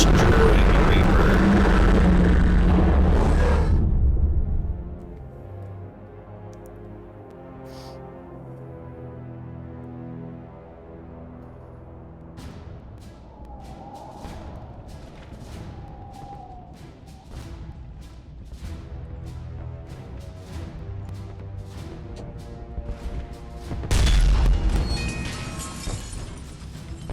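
A Thresher Maw tears into a Reaper in Mass Effect 3, a loud crashing, explosive roar over the first few seconds, then a low rumbling backdrop with sharp impacts and a second heavy burst near the end.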